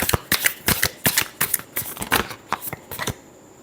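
Tarot cards being shuffled by hand, a rapid series of crisp riffling bursts and slaps, close and fairly quiet, in an uneven rhythm over a few seconds.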